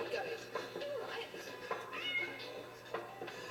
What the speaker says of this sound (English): Damn cat again.